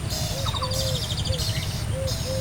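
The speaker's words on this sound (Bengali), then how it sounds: "পাখিটা ডাকা শুরু করছে" A dove or similar wild bird calls in repeated short, clear notes over steady low background rumble, with other small chirps scattered through.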